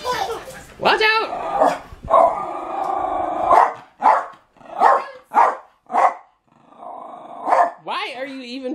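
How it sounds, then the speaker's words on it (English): A dog growls and barks up close: rough growling first, then a run of loud, sharp barks in quick bursts, ending in a whiny yip. "Why are you even barking?"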